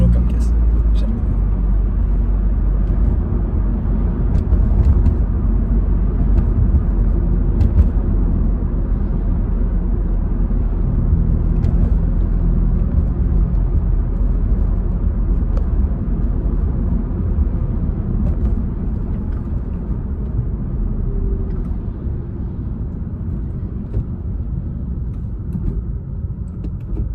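A Honda Civic Type R FK2 cruises gently with a steady low engine and road rumble from inside the cabin, continuous and fairly loud throughout, with faint talk now and then over the drone.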